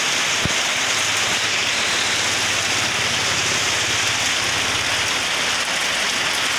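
Heavy rain pours steadily, a dense, loud hiss of drops hammering surfaces close by, with a faint low hum running underneath for a few seconds.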